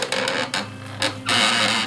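A hand-cranked sticker-making machine feeding butterfly stickers through, giving a few short mechanical whirring bursts between brief pauses, close and fairly loud.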